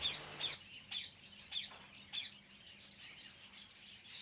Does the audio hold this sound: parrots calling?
yes